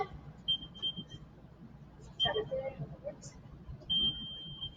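A workout interval timer beeps during a live lower-body exercise class, a few short and longer steady electronic tones at intervals under low background noise and a trainer talking.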